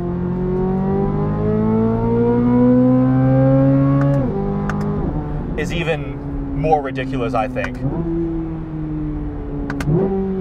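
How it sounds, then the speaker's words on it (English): A 2023 Corvette Z06's LT6 flat-plane-crank engine revs up and drops back several times, its strong throaty drone rising in pitch between steps, while someone talks over it throughout. "this Z06 engine, this LT6 flat plane crank"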